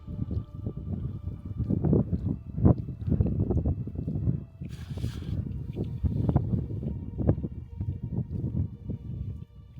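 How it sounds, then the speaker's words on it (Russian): Gusty mountain wind in an Uzbek highland village roars and buffets the microphone in uneven surges, loud and close, with no voices. "Ветер аж завывает."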